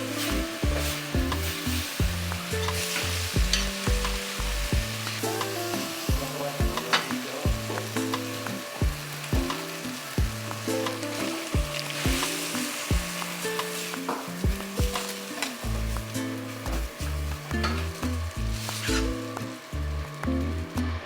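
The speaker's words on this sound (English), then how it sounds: "The big ass kimchi bokkeumbap that I'm making" Kimchi fried rice (kimchi bokkeumbap) sizzles and crackles steadily in a hot pan while being stir-fried, with repeated scraping and tossing strokes throughout, close and loud, with no talking.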